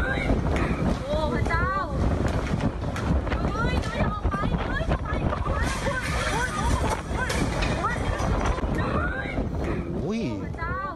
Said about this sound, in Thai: มีคนนำคลิปที่บันทึกภาพความรุนแรงจากพายุงวงช้างเนี่ยในจังหวะที่พัดเข้าร้าน